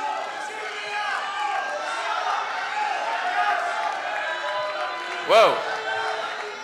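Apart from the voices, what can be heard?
excited wrestling crowd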